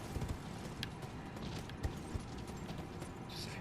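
Hooves of a horse in the Elden Ring video game thud and clop at a gallop, a loose rhythm of muffled hoofbeats under a dense bed of game ambience.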